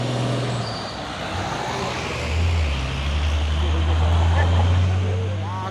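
An ALS inter-Sumatra bus and two heavy tronton trucks pass along a road, their engines forming a loud, steady low rumble that swells and fades with passing traffic while someone talks over it.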